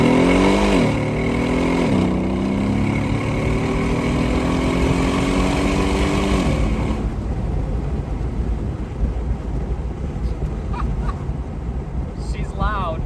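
A Mercedes G-Wagon on 22-inch wheels accelerating through first, second and third gears, loud engine rising in pitch with two gear-change dips, then settling into road and wind noise.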